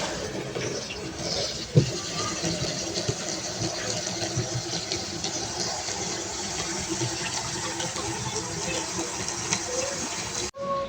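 Steady rushing of water pouring into a cooking pot of corn, continuous and fairly loud for about ten seconds, with a brief knock near the start and an abrupt stop.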